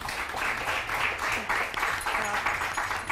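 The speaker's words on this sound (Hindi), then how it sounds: "तालियां तो बजा ली सारों ने" Audience applause at an Eid celebration show, a steady wash of clapping that holds evenly for about three seconds with voices murmuring faintly underneath.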